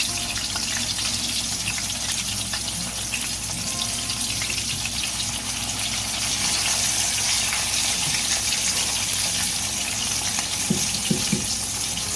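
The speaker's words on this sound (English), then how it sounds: "Let you hear that frying sound, put it in there." Steady, dense sizzling and crackling of flounder frying in hot oil, continuous and close, with a few louder pops near the end.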